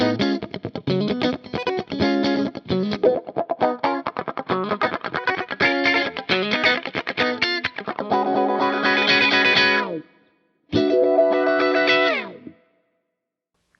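Funk wah guitar tone from a Fractal FM3/FM9/Axe-FX III preset: choppy, rhythmic muted strums with a sweeping wah filter, then sustained bright chords ringing out and stopping abruptly, loud and alone with no talking.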